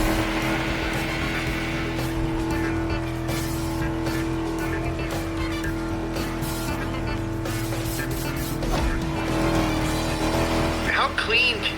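Car engine in The Crew Motorfest video game hums and revs steadily while driving, with a sharp tire squeal near the end and game effects and music layered over the engine drone.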